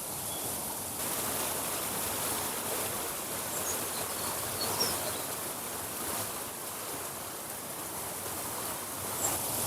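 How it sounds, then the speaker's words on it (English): Several small waterfalls in a garden, a faint, continuous wash of falling water heard from a short distance, steady throughout with no voices. "the wonderful waterfalls"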